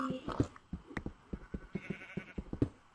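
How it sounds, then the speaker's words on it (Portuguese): A sheep in the video game Minecraft bleats in a run of short, faint, evenly spaced calls, each brief and soft against a quiet background. "Ovelha."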